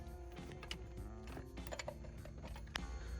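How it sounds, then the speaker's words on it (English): A banjo bolt on a fuel pump fitting is worked loose during a replacement pump install, giving faint, close metallic clicks, ratchet-like ticks and small clanks in an irregular series. "we're going to take this banjo bolt loose here."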